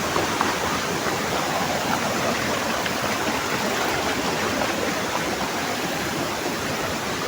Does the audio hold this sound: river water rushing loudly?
yes